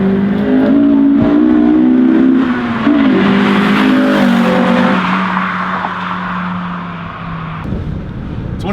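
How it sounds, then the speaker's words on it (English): A 1999 Acura Integra GSR pulls hard through second gear, its engine note rising steadily and loud from inside the cabin, then dropping into a lower, quieter drone after a shift. "Let me build up some speed here and give her a rip."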